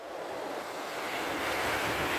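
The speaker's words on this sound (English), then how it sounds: "The sea is quite rough tonight." Rough sea waves at night on the UK east coast, heard as a broad, continuous roaring wash of surf mixed with wind buffeting the microphone, loud and steady with no voices.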